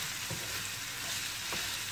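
Chopped onion and three or four green peppers fry in a pan as savory filling for a layered börek, giving a steady close sizzle with a couple of faint stirring scrapes.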